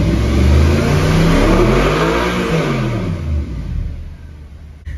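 Car engine revved progressively up toward 7000 rpm and the rev limiter, loud and close, pitch sweeping up and falling back in waves, then cutting off abruptly near the end.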